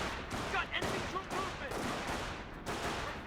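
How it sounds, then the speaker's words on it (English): Rifle gunfire and battle noise in the Company of Heroes strategy game, dense overlapping shots and bursts in a continuous clatter, with a voice faintly present underneath. "It does use suppressive fire there on the G43s."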